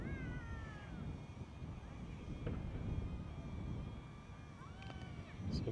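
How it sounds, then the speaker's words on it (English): Strong wind buffeting outdoors while a DJI Neo drone flies nearby, a constant low rumble with a faint high whine from the drone motors above it. "Strong wind."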